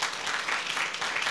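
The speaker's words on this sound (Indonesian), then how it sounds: "Dan tepuk tangan bagi Allah kita." A church congregation claps during a New Year's Eve service at GBI Sport Centre, a brief, dense wash of many hands at moderate volume.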